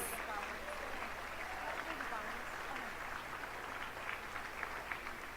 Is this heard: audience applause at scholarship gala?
yes